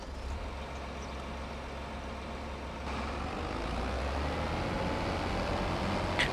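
A John Deere 8R tractor engine from Farming Simulator 25 rumbles at a steady low drone, swelling slightly louder partway through as it gets underway, with no one speaking.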